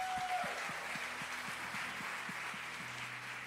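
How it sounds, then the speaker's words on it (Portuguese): A church congregation applauds a communications and image team, a soft, steady patter of many hands clapping heard from a distance, with a low sustained tone and rhythmic thumps underneath. "Vamos aplaudir a comunicação e imagem."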